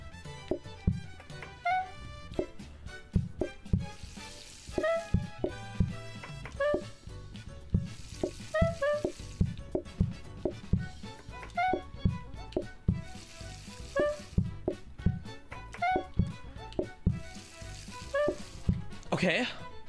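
Food sizzling and frying in the cooking video game Plate Up, a steady crackle under bright plinking game music and chimes, with a person talking over it.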